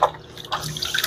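A new gold pan is dipped into water and washed off by hand, giving brief close splashes and drips with sloshing water, no talking.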